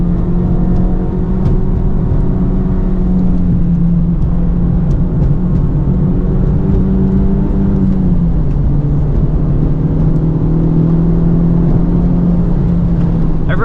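A 2023 Honda Civic Type R FL5 making about 350 hp and running RE-71RS tires drives on a track, its engine droning steadily as a loud in-car hum with a pitch dip and recovery midway, and no talking.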